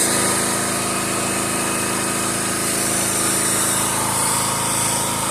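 Pressure washer engine running at a steady, loud drone with a bright high-pitched whine, continuous and unchanging, with no talking over it.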